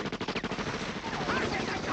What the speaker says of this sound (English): All the shooting.